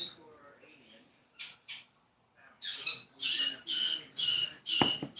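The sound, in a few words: pet bird squawking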